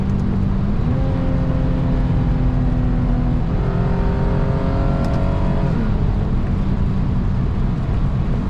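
A Lexus IS250 engine accelerates through downshifts, its steady loud drone stepping up in pitch in distinct stages with each gear change, heard from inside the car.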